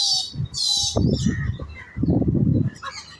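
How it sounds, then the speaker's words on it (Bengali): Chickens on a poultry farm squawk and cluck in short, loud bursts, with some higher-pitched calls mixed in and a steady barn background underneath. "আমাদের কোম্পানির মুরগির খামার।"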